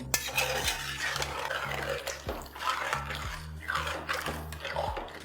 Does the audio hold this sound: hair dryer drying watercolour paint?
no